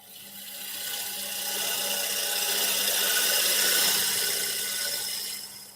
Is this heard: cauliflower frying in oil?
no